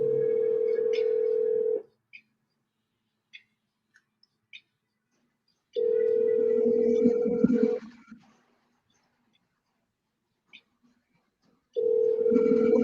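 Telephone ringback tone repeating in long, steady bursts of about two seconds separated by silent gaps, with a few faint clicks between, fairly quiet and with no talk.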